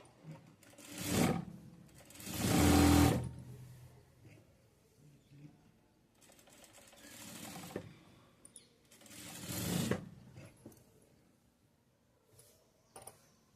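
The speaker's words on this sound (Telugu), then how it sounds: "ఇప్పుడైతే లైనింగ్ మొత్తాన్ని మెయిన్ క్లాత్కి జాయింట్ చేస్తూ ఒక కుట్టు కుట్టుకోవాలి." A sewing machine stitches lining to the main fabric of a child's top, running in several short bursts with quiet pauses between them.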